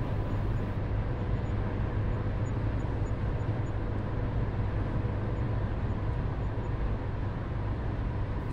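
A car accelerates up a motorway slip road and shifts into fourth gear, giving a steady, loud engine and road drone with continuous low rumble and no talk.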